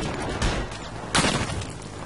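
Two sharp, heavy bursts of explosions in the video game Battlefield Hardline, the second louder, over constant in-game background noise.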